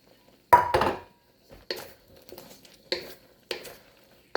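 Pork tossed around in a pan at home while cooking a honey garlic pork chop dish: several separate clattering scrapes and shuffles of meat against the pan, close and fairly loud, with quiet gaps between them and no talking.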